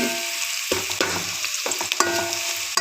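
Onions and ajwain fry as a tempering with a continuous sizzle, punctuated by several sharp clinks and scrapes of a utensil stirring the pan.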